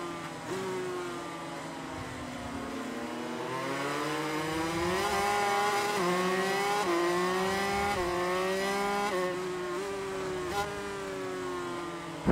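Motorcycle engine in a 500cc racing video game, a steady high-pitched whine that rises and falls with gear shifts and throttle changes, loud and continuous with no talk over it.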